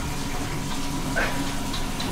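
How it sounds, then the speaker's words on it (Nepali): Water is poured during Dashain preparations of a goat, a steady splashing rush running throughout at moderate level, with faint voices in the background. "हाल्दै पानी"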